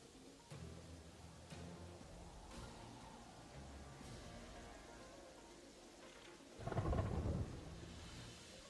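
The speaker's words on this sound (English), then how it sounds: "Let's nap away the rain." Video game rain and thunder: steady soft rainfall with a few crackling pops throughout, then a deep rolling thunderclap near the end, quiet overall and with no speech.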